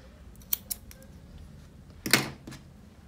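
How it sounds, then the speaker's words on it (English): Scissors snip through crochet yarn in a quiet room: two small clicks early on, then one sharper, louder cut followed by a faint click, with no one talking. "what I'm going to do next is cutting the yarn"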